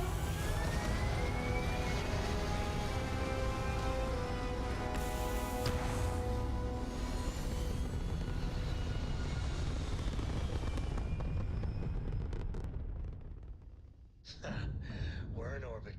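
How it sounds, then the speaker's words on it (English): Spaceship thrusters fire in the game Starfield, a loud, sustained roaring rumble with rising whine that holds steady for about eleven seconds, then thins out and briefly drops before a fainter burst returns. "All thrusters firing."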